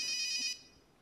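A mobile phone ringtone plays loudly for about half a second, a bright repeating electronic trill that cuts off abruptly, leaving a quiet room.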